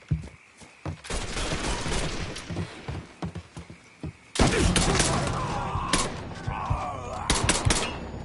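Video game gunfire from a PS4 shooter: dense bursts of automatic shots in two loud stretches separated by a brief lull, with booms and a player's shouting under the shots.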